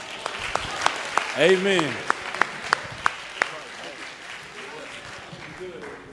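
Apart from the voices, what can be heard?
audience applause at a convention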